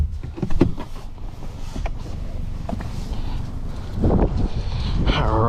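The sunroof shade of a 2023 Kia Forte GT slides closed inside the cabin, a short motorized whir with faint clicks and rustles, close and fairly loud, with no talking.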